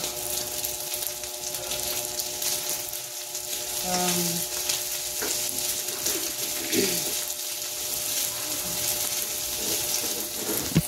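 Sinangag, Filipino garlic fried rice, being stirred and scraped in a hot frying pan, with a steady sizzle and soft clinks running under occasional nearby talk.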